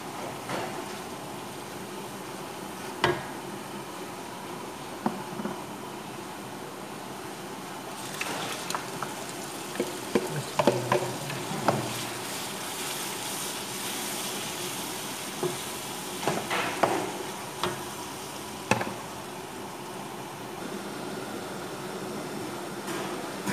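Ground spices frying in a pan for a dhaba-style dal mash fry give a steady, moderate sizzle throughout, with occasional clinks and scrapes of a stirring spoon near the pan.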